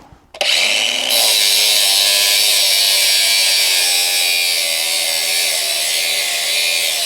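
A power tool bursts on after a brief pause and cuts metal for a supercar body buck, a loud, close, high, buzzing whine that holds steady for several seconds.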